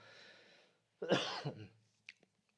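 A person coughs in a short, harsh burst near and fairly loud, after a soft breath, with a couple of faint clicks trailing off; the cough comes from someone who has had lingering phlegm for about two weeks.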